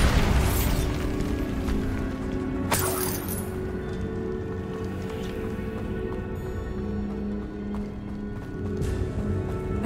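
Bombarda blasting spell going off in the game Hogwarts Legacy: a few sudden, sharp booming bursts rise out of a dense, continuous layer of game ambience and rumble.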